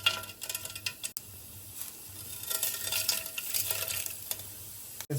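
Whole spices sputter in hot refined oil for chicken mandi, a close crackling sizzle with stirring scrapes and a couple of sharp clicks of a utensil against the pan, no talking.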